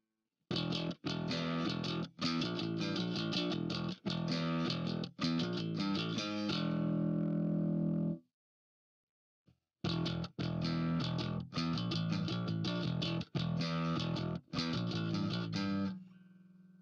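Bass guitar played through a Line 6 POD HD with a heavy distorted metal djent tone, rapid chugging riffs with tight palm-muted stops, a short silent gap, then more riffing, loud and alone.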